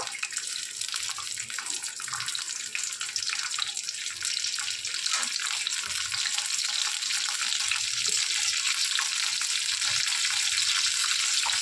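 Dry red chillies and panch phoron fry in hot oil, a continuous dense sizzle and crackle held close at an even level, with no voices.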